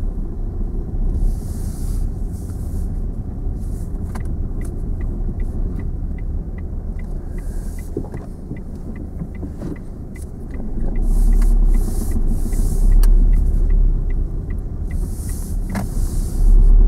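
A car rumbles steadily as it pulls away and turns right, a continuous close engine and road drone with light intermittent ticking, swelling louder toward the end.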